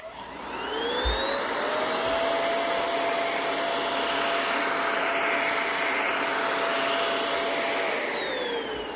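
A cordless vacuum cleaner runs over a rug with a steady high whine that swells up on start, holds loud and even, then tapers as it winds down, with a couple of faint knocks early.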